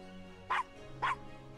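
Two short, sharp barks from a small dog in the Gabriel Knight adventure game, evenly spaced about half a second apart over a low steady background hum.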